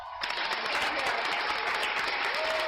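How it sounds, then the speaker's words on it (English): Crowd applause fills an arena at a Pacers versus Knicks basketball game, a sustained, even roar of clapping heard from within the crowd, with no voices on top. "And applause."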